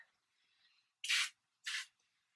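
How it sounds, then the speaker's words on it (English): Two short, sharp hissing bursts of glass cleaner spray from an aerosol can, close and crisp, separated by a brief pause against near silence. "It foamed really nicely, and it sprayed really well."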